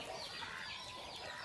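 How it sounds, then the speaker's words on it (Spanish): Israeli laying hens clucking together in a steady, overlapping chorus, close and fairly loud, with no voices. "Esas son las famosas gallinas israelíes."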